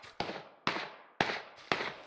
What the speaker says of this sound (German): die beschießen gerade jemand anderen.